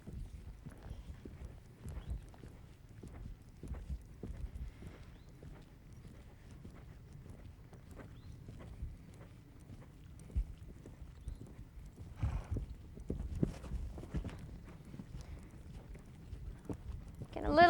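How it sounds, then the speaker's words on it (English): A very green, inexperienced horse ridden during a basic horsemanship jumping exercise clip-clops steadily on the ground, hoofbeats fairly close in an even rhythm, with brief talk and a louder burst near the end. "this very green horse that David's riding"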